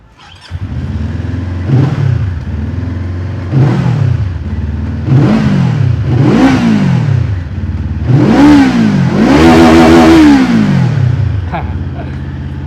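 An SM Sport SM3 400cc two-cylinder motorcycle starts up close by, then revs repeatedly in about six rising and falling bursts, each climbing higher and louder before settling back to a rumbling idle.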